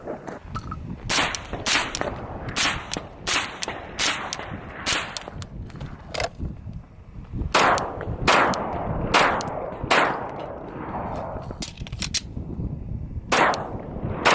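Suppressed rifle shots through a Surefire Socom RC2 suppressor, a string of sharp, loud cracks in irregular clusters with short gaps, some shots close together and others spaced apart, each with a quick fading tail.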